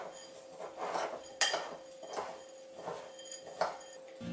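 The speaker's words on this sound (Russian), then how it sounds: "Все хорошо перемешиваю." Ground nuts and powdered sugar are stirred in a bowl with a utensil, giving rhythmic scraping strokes about every 0.7 seconds and a few sharper clinks against the bowl.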